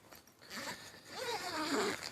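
A zipper is pulled along the window of an inflatable tent in a couple of quick runs, close and clear against a quiet background.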